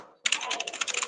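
Rapid keyboard typing, a close, quick run of clicking keystrokes starting abruptly after a brief silence and continuing steadily.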